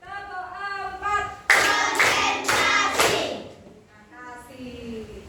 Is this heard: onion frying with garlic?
no